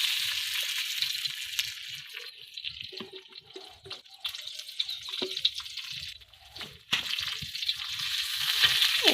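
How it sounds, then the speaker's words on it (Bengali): Oil frying in a pan in a village kitchen is stirred and pushed aside, giving a close, continuous crackling sizzle broken by scraping stirs, with no talking. "এখন আমি তেলটাকে লাড়িয়ে সরিয়ে দিলাম, আর একটু তেল দিয়ে দিলাম।"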